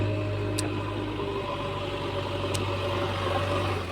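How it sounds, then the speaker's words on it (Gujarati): A Mahindra tractor engine runs with a steady low drone while soil is loaded, with a couple of sharp ticks over the constant rumble and no voices. "તમે જોઈ શકો તો મિત્રો આપણું મશીન કેવું ભરી રહ્યું છે"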